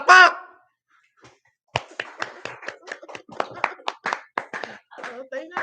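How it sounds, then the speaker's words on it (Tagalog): Clapping from an audience at a political speech in the Philippines follows a brief burst of voice and a pause, coming as a rapid run of sharp, separate claps that sound like a small group rather than a large crowd. "Palakpak!"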